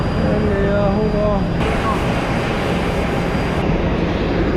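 Steady, loud broadband roar of an airplane engine while boarding a flight at the end of a trip from Gran Canaria, with a voice briefly speaking over it at the start.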